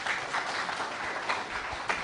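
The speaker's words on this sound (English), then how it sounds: "A round of applause, please." An audience at a forestry-day event applauds after a speech, with steady, dense clapping throughout the short stretch.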